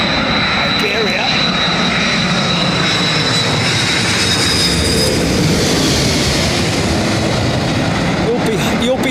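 An Iberia airliner jet rolls at London Heathrow Airport with a broad, continuous engine roar that swells and holds, heard at moderate distance with faint background chatter.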